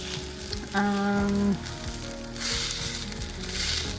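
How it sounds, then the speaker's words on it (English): Garlic fried rice made with a lot of garlic and leftover rice, sizzling in a pan: a close, steady hiss of frying with a brief tonal squeak of the pan early on and stirring scrapes. "what we're making is garlic fried rice almost"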